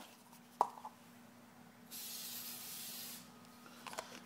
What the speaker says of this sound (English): Let's get some spray in there.